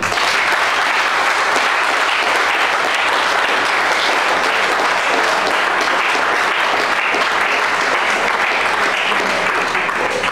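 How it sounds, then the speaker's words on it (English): Sustained applause from an audience at a church sermon, steady and dense for the whole stretch with no break, with faint crowd noise underneath. "Clap."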